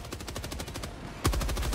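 Rapid, steady bursts of machine gun fire in Helldivers 2, a fast even rhythm of sharp shots that briefly pauses and then resumes louder and closer, with no voices over it.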